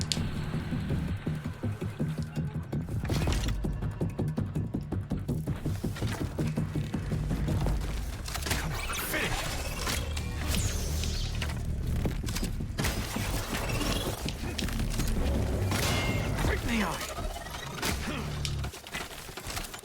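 Machine gunfire and mechanical clatter from a Watcher machine in the VR game Horizon Call of the Mountain, a dense, continuous barrage of thuds, crashes and metallic mechanisms filling the scene at steady loudness.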